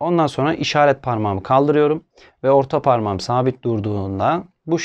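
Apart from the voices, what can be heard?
None of the usual background noises is heard.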